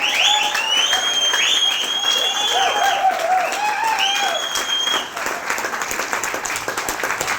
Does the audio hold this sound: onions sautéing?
no